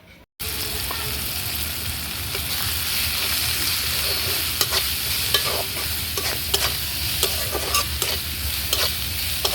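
Prawns fry with turmeric, salt and chili in a hot pan, a steady close sizzle running throughout while a spatula scrapes and stirs in sharp irregular clicks and knocks.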